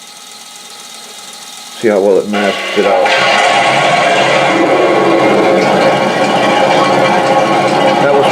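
A simulated tank engine from the sound unit of a model Hetzer cranks over with a short stuttering start and then settles into a steady, loud synthetic idle rumble. Someone speaks briefly before the start.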